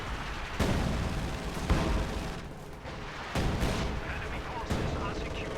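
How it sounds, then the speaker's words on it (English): In the World War II strategy game Company of Heroes 2, an IL-2 Sturmovik strafing run unleashes heavy booming gunfire and impacts in repeated loud bursts, with a commentator's voice running underneath. "IL-2 Sturmovik strafe does a bunch of damage and forces back KilrathiSoldier's Grenadiers."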